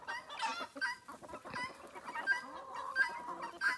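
Free-ranging farmyard chickens with several short, bright crowing-like calls recurring at intervals over busy clucking and chatter from the flock, fairly close and steady throughout.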